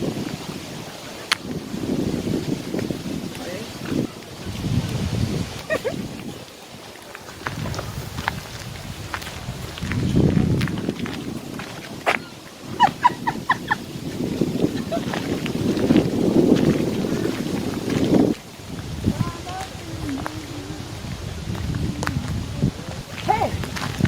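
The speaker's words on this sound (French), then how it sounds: "Il y a trop de vent." Gusty wind buffets the microphone outdoors, rising and falling with low rumbles, while people talk intermittently over it.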